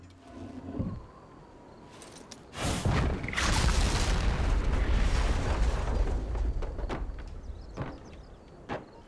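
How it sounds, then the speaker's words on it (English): A cannon blows up in the video game Assassin's Creed Brotherhood, a loud, sustained roaring blast that swells after a sharp onset and rumbles for several seconds before fading, with scattered cracks. "he's gonna blow up the cannon"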